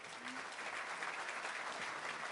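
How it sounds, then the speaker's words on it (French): Even applause from an audience welcoming a guest onto a stage, with continuous clapping at a moderate, distant-sounding level throughout and a brief voice early on. "On peut l'applaudir."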